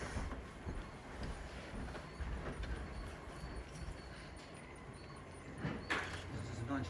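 A model railway train runs into a station on a landscape layout at a museum exhibition, making a faint, continuous rolling clatter with occasional clicks beneath soft nearby talk.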